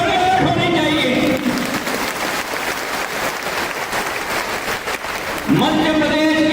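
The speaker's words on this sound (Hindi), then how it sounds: "तालियों की गड़गड़ाहट होनी चाहिए।" A political rally crowd in Madhya Pradesh bursts into loud applause in the middle of a speech by a Union minister. Someone speaks before and after the dense, steady clapping, which lasts about four seconds.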